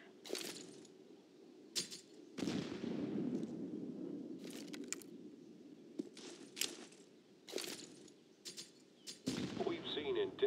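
Pistol shots at a shooting range in Counter-Strike: GO, a string of sharp, separate reports spaced irregularly over a low rumbling background.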